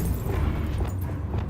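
A Bombarda explosion spell goes off in Hogwarts Legacy, a dense, loud roar of rumbling blast noise that fills the whole moment without a pause.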